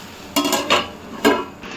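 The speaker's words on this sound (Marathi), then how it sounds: "आता आपल्याला ह्याच्यावरती झाकण ठेवायचं आहे" A metal lid set onto a pan of cooking okra: a few close clinks and knocks, three distinct contacts spaced over a second or so, above a faint background.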